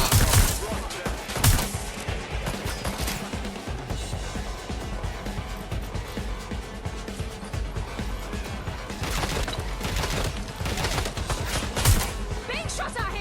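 Gunfire in the game Watch Dogs Legion, bursts of rapid shots and cracking impacts over busy mechanical clatter, loud and near, with voices calling out.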